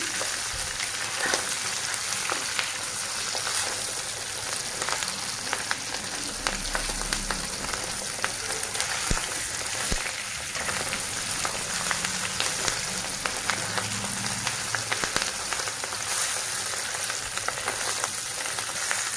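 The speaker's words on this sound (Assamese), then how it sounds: "এয়া ভাজি হৈ গ'ল মাছ।" Fish fries in hot oil with a loud, constant sizzle and dense popping crackles that keep going without a pause.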